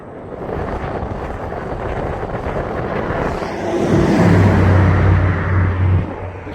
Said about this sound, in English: Head-on wind.